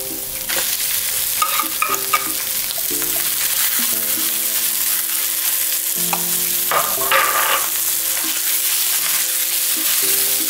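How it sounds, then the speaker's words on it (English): Corned beef stir-fried with garlic and chili in a pan, with close, steady sizzling and repeated scraping stir strokes throughout. "When the aroma from the garlic and the chili starts to coming out, you guys can add the kornet beef."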